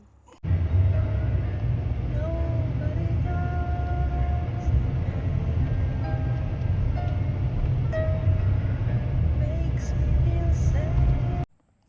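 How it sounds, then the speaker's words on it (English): A truck driving past on a rural road near a covered bridge, a loud, steady rumble that holds for about eleven seconds before cutting off, with no talking. "Here comes a truck."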